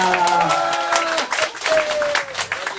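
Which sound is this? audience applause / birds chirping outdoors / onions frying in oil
audience applause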